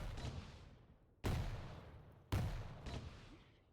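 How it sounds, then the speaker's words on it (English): Rocket launcher fire in Quake Champions during a competitive duel: two sharp, loud launches about a second apart, each trailing off into a fading whoosh and low rumble. "Great rockets coming out."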